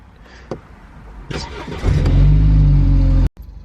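A few clicks, then a car engine turns over and roars to life, loud and close, running steadily before cutting off abruptly.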